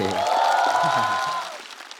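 A stand-up comedy audience applauds with a cheer for about a second and a half before the clapping fades out.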